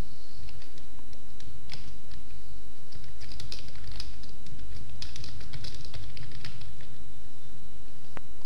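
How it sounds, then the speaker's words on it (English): Rapid typing on a computer keyboard while editing text on a web page, close and clear, with irregular bursts of key clicks and brief pauses over several seconds and no talking. "Now I can start typing anything here to change this text."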